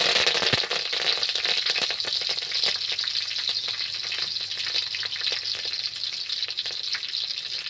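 Curry leaves sizzle steadily in hot oil for a mint and coriander chutney tempering, with a dense, continuous crackle and frequent sharp pops and spits close up, and no voice over it.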